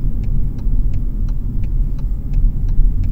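A car drives around a roundabout on a driving-exam route in Rillieux-la-Pape, its steady low engine rumble running throughout under a faint, regular ticking like a turn indicator.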